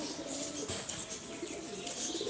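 Pigeons coo steadily in a small flock, a continuous low murmur of overlapping calls close by with no one talking.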